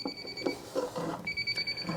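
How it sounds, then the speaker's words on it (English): Repeated high electronic beeps from a meter, short tones pulsing in quick succession with soft handling noise underneath. "Whenever you hear that beeping sound, this meter will actually tell you what the percentage is."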